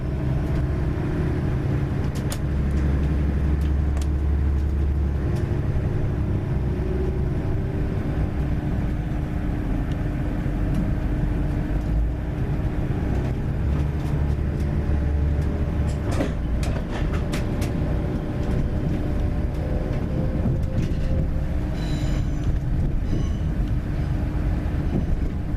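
Train pulling out of Edinburgh Waverley, running 34 minutes late, bound for Reston: a steady, close rumble of the moving carriage with engine hum and rail noise, continuous throughout.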